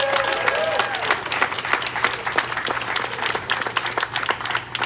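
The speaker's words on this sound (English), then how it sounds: "So please join me with a round of applause for thanking all of the Canada Games staff" Sustained audience applause at a Canada Games torch relay event, dense clapping from a crowd continuing steadily throughout, with a faint voice early on.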